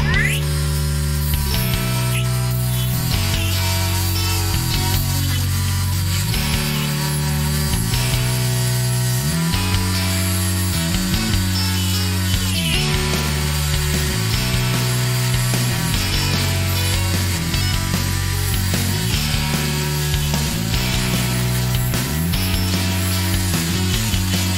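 A modified bench grinder buffs metal with green polishing compound, giving a steady loud mechanical whir with rhythmic rubbing surges and a repeating low hum cycle throughout, with no voices.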